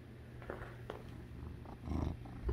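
A house cat lying flopped down purrs and makes soft low rumbling sounds up close, faint and intermittent, in a quiet room of a smart home.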